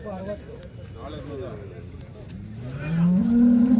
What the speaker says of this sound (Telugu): ఈరోజు మనము చింతామణి ఆవుల సంతలో అయితే ఉన్నామండి.